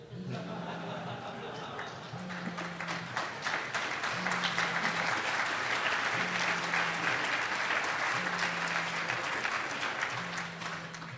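A conference crowd at an HTML5 developer talk breaks into sustained applause that swells and holds for around eleven seconds, dense and even, with a faint repeating low tone running beneath it.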